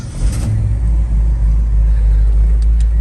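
A 1971 Ford F250 Ranger XLT Camper Special pickup engine fires up and settles into a deep, steady idle rumble, loud and close throughout.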